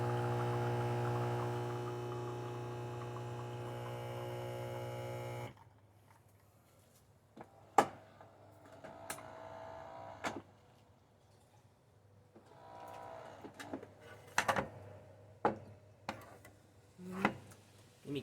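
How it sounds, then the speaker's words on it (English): Saeco Pico Baristo espresso machine extracting coffee: a steady pump hum for about five seconds, then a quiet run of sharp clicks and small knocks spaced through the rest of the clip. "now it's going to do extraction"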